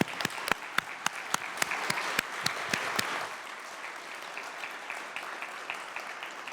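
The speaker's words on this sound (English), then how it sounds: "please, congratulations and a round of applause" Applause from a conference audience honouring a winning ETH Zurich and FZI team at a space resources event, opening with a handful of sharp, spaced claps that swell briefly into a full round before fading to scattered patter.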